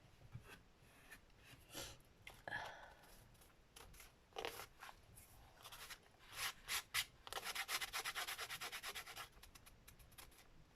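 Fingernail scratching and scraping material off a paper art journal page, a series of close, dry rubbing strokes that grow denser and more continuous toward the end, with no talking.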